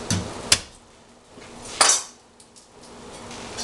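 Garlic being roughly chopped with a kitchen knife gives two sharp, separate knocks on the board, the second slightly longer, with quiet stretches between and after.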